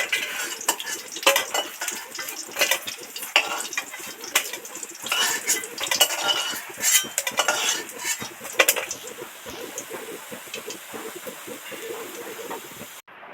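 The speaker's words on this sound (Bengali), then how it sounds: "এবার একটা একটা মাছ তেল থেকে ছেঁকে উঠিয়ে নিচ্ছি।" Utensils clatter and scrape against a pan as small fish are lifted one by one out of hot deep-frying oil, with a soft sizzle underneath; the clinks come in irregular bursts, then the sound thins out.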